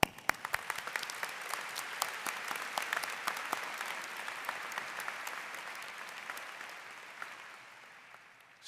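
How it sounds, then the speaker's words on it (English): A large arena crowd at a university graduate commencement applauds for several seconds, dense clapping with sharp individual claps up close, gradually tapering toward the end. "So let's give your community, your ecosystem of support, a round of applause."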